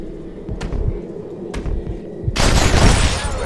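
Schofield revolver shots in the Red Dead Redemption video game, a couple of sharp reports followed by a loud burst of blasting and crackling near the end, no voices.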